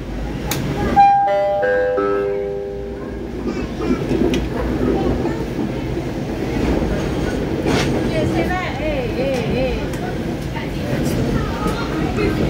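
A train chime plays a short descending tone sequence, then an Indonesian KRL commuter train rumbles steadily along with rail noise and a voice talking over it.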